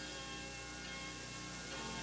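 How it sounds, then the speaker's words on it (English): Bells of a 17th-century church on the town square in Trenčín, a steady ringing wash of bell tones with sustained overtones, fairly loud and continuous over the short stretch, no talking. "The bells belong to this 17th century Piaristitsky church in the town square."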